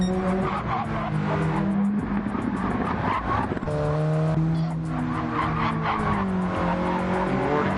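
GT race cars drive through the S corners, their engines loud and close with rising and falling pitch as they shift gears, and tyres squealing through the turns, under steady commentary.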